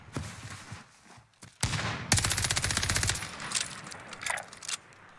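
Rapid automatic gunfire from Call of Duty Warzone on the Caldera map: a quiet opening with a few isolated shots, then sustained bursts of loud machine-gun fire with repeated cracks, tapering into scattered shots.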